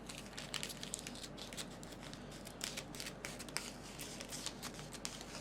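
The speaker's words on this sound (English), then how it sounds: "if the scissors slip" Scissors cutting through material while repairing interior door panels of a 1981 Chevrolet Silverado, heard as soft, close snipping and crinkling in quick irregular bursts over a faint background hum.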